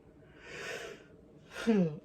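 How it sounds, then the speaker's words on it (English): A breathy exhale followed by a drawn-out, voiced yawn with a wavering groan, close and fairly quiet. "I apologize for all the yawning."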